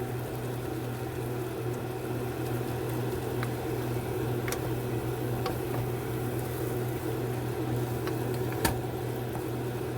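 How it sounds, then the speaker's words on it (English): A kitchen fan runs steadily throughout with a constant low hum and broadband whir, while faint clicks and small clatters from cooking ground beef for taco salad surface now and then. "I do have the fan on, I'm sorry guys"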